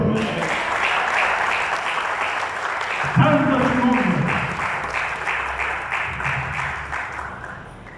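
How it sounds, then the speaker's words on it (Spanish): A church congregation applauds the Lord with steady, dense clapping throughout while a preacher speaks over it, the clapping swelling briefly partway through. "¿Cuánto le da un aplauso al Señor?"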